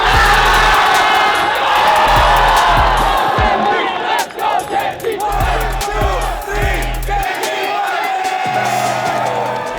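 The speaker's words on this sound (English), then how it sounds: "We were looking at them cheering for all the Genji's players" Gen.G fans at the Esports World Cup 2025 cheer and shout loudly as a dense crowd, with whoops and battle cries rising over a steady roar that dips briefly midway before swelling again.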